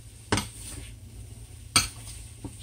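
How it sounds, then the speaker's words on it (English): A spoon scrapes and clinks against a pan while stirring stir-fried chicken and vegetable ramen noodles with melting butter, two sharp close knocks and a lighter tap over a quiet kitchen background. "So make sure you stir it up real good so everything melts down."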